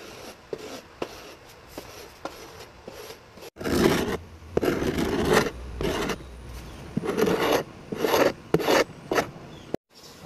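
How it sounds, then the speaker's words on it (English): A carbide scraper drags across the flat wooden panels of a window sash, stripping old paint residue in bursts of harsh rasping strokes, faint at first and then louder and more continuous. "Next is to scrape the flats like that and get everything, all the residue off with this carbide scraper."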